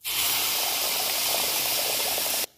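Water hits a hot pan while semolina pitha dough is being made, giving a loud, steady hiss and sizzle that holds for about two seconds and then cuts off sharply.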